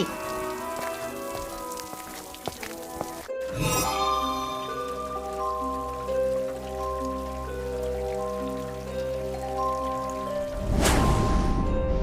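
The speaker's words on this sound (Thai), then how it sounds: "คาบสุดท้าย ฝนตกจนได้" Steady rain falls and patters over soft, sustained musical tones in a Sakura School Simulator cartoon scene. A brief hiss surges near the start and again toward the end.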